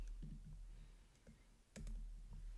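Quiet, close keystrokes on a computer keyboard entering a SQL select statement, coming in short irregular bursts of soft clicks over a low background hum.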